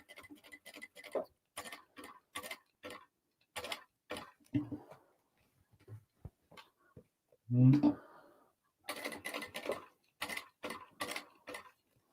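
A home sewing machine top-stitching an Acacia crossbody bag, its irregular mechanical ticks and clicks running in short bursts, with one heavier low thump partway through.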